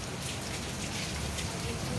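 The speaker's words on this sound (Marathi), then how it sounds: "पाऊस आला जोरात." Heavy rain pours steadily and close on an umbrella-covered street walk, a dense continuous hiss with soft drop patter and no clear voices.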